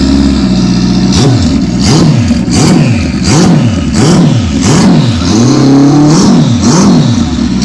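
Loud, close revving of a twin-turbo car engine on display at a Scottish motorcycle show, with repeated throttle blips rising and falling in a steady rhythm over a rumbling idle.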